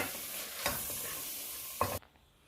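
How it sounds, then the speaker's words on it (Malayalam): Stirring chickpea curry in a pan with a steady sizzle, a couple of scraping strokes standing out before the sound cuts off abruptly. "ഒന്ന് ചെറുതായിട്ട് യോജിപ്പിച്ചിട്ട് ഒന്ന് ഇളക്കി"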